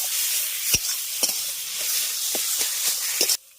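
Bottle gourd stir-fried in a pan with a steady sizzle, broken by sharp scraping knocks of a spatula against the pan at irregular intervals; close and alone, ending abruptly.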